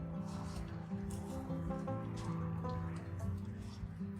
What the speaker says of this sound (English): I'm going to give them a secondary little washing